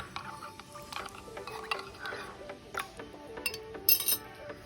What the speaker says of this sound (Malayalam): അതിനുശേഷം ഒന്ന് നന്നായിട്ട് ഇളക്കി കൊടുക്കുന്നുണ്ട്.